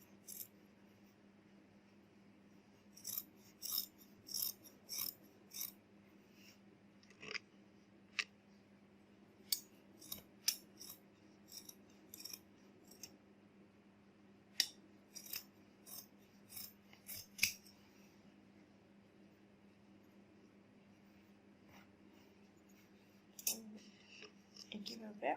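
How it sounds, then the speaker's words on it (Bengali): Scissors snip through a piece of fabric for a cushion cover in scattered, close clusters of crisp cuts and faint rustles, separated by quiet stretches over a low background hum. "আমি কাপড় কেটে নিচ্ছি।"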